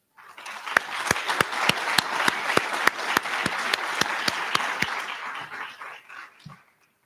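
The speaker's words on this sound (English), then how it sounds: "I think she deserves a round of applause." An audience applauds at a UN International Day of Solidarity with the Palestinian People event, producing steady, full clapping that holds for several seconds and then tapers off near the end.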